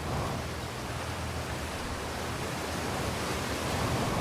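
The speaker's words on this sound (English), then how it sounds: "There's a waterfall." A waterfall rushes in the VR game Outer Wilds as a steady, loud broadband roar that holds constant throughout with no pauses and no voices.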